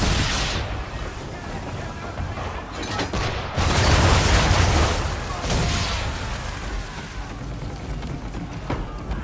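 Heavy cannon fire pounds a ship during a naval battle in Assassin's Creed 3, a loud, continuous barrage of booming shots and rumbling impacts that swells and recedes.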